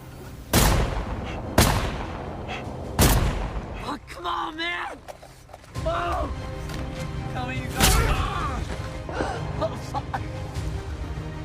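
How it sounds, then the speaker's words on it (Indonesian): Loud gunshots crack from an Iraq war sniper film, with several sharp, booming blasts spaced a second or so apart, then more shots later amid gasps, shouts and tense film sound. "Momen itu mereka gunakan untuk melepaskan tembakan ke arah tumpukan limbah."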